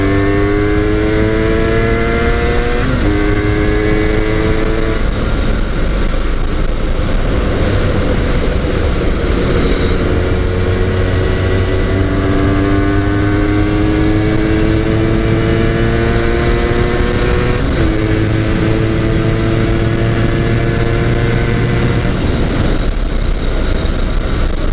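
An Aprilia RS250 two-stroke 250cc motorcycle, ridden hard, revs and accelerates loudly through repeated rising gear pulls, each climb broken by a brief shift before the next, close and continuous with no talk.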